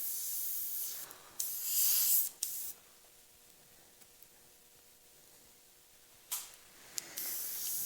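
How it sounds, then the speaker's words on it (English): Airbrush spraying paint in black and grey onto a leather saddlebag, a skull design around the eye socket; bursts of steady hissing spray with short gaps between them, close and fairly loud. "The brush is not spraying super cleanly at this point."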